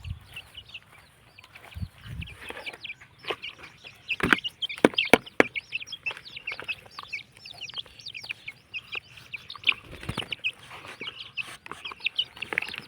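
A flock of chickens clucks and cackles continuously at close range, with busy overlapping calls and occasional louder squawks.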